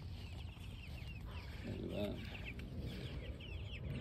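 Meat birds in a chicken tractor cluck and chatter steadily against outdoor background noise and a low rumble, while a person speaks briefly nearby.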